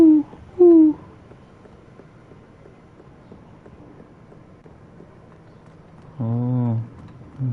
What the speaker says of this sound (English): May owl.